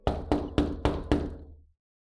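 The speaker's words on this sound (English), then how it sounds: "raised a hand and knocked" Five firm knocks on a door land at an even pace, close and solid, with a short ringing tail after the last one; no voices, used as an effect in a weird fiction story reading.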